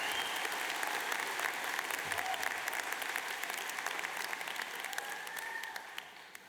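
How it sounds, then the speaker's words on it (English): Graduation ceremony audience applauding steadily throughout, a dense, even wash of many hands clapping at moderate volume in a large hall, with no voices over it. "Maybe if we could give them a round of applause along with the staff."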